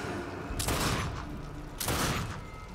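Gunfire in the first-person shooter The Darkness II, two dense bursts of rapid shots at about half a second and two seconds, loud and close over a continuous battle din.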